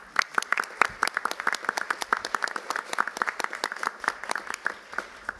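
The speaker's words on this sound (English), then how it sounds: "A round of applause for our children." A small audience at an evening school board meeting gives a round of applause for the district's children, with distinct individual hand claps, fairly close and moderately loud, in an uneven patter that continues throughout.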